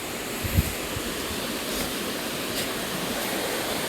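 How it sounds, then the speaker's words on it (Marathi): A waterfall in Bali rushes in a steady, broad roar of falling water, continuous and moderately loud with a faint low thump early on and no voices. "साईन दिसलं तुम्हाला वॉटरफॉलचं. हा वॉटरफॉलच्या दिशेने जातो आहे."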